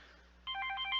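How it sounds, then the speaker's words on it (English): A telephone rings with an electronic warble that starts suddenly and keeps going steadily, fairly faint over a low hum in a quiet room. "Hold on, got a phone call."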